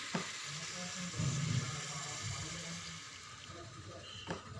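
Chicken curry sizzling in a pressure cooker pan with ginger as water is poured in, a steady hiss and bubbling frying noise with someone speaking over it throughout.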